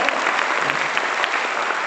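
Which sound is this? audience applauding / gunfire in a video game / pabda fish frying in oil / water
audience applauding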